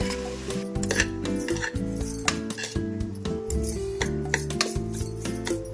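A spoon stirs boiled rice in a pan for garlic rice, giving a busy run of metallic clinks and scraping against the pan over a soft sizzle, with no talking.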